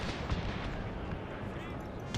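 Cannon artillery firing canister shot in a Total War battle set in the Thirty Years' War, a dense continuous roar of booming blasts and gunfire packed together for a couple of seconds.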